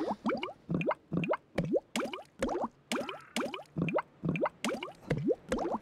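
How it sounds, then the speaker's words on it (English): Milking a cow in a farming video game gives a steady run of rhythmic liquid squirts and splashes, about two per second, close and clear with no talk. "Let's go milk a cow."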